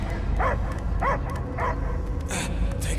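A dog barks in the video game Guardians of the Galaxy, five short, evenly spaced barks, moderately loud over a low steady background hum.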